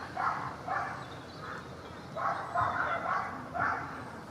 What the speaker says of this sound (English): If only the dogs would stop barking endlessly.